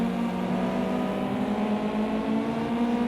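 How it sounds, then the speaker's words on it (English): Ginetta GT5 race cars on a circuit during a cup race, a steady engine drone with a sustained tonal whine, moderately distant and continuous, with no clear braking change. "They've got to brake fairly hard coming up into the braking area up here,"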